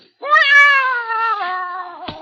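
A cat's meow used as a sound effect in a radio drama: one loud, drawn-out, rising-then-falling yowl heard alone and close, ending with a brief soft thump.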